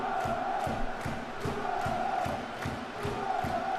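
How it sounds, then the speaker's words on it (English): A stadium crowd in the football video game PES 2014 chants in rhythmic surges with a regular clapping beat, loud and steady throughout. "Crowd's been with us all the way through this game."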